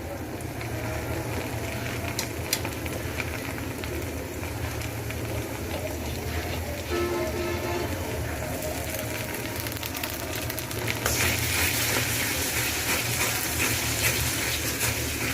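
Garlic, onion and ginger paste fries in a pan for beef curry, giving a continuous broadband sizzle with mechanical clinks and scraping, growing hotter and louder toward the end.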